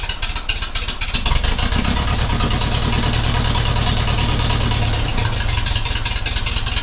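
A 1956 Ferguson TVO 20 tractor engine, unrun for eight years, chugs loudly close by with a rough, rapid steady beat that firms up after about a second and keeps running unevenly.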